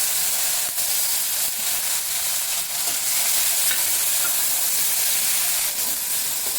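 Tomato, garlic and curry leaves fry in a pan for an okra curry, giving a steady close sizzle and hiss with faint stirring scrapes throughout and no voices.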